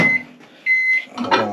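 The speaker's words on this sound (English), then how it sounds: "we've got another 5 seconds here on the microwave to get these heated up" A microwave oven running while heating soft plastic bait sprues, with a steady electric hum, a brief beep, and a door clunk near the end, close and clear.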